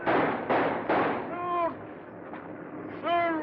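Gunfire in the 1936 film Things To Come: three sharp broadband shots at roughly half-second intervals, then shouting voices, with another burst near the end, all fairly loud and close.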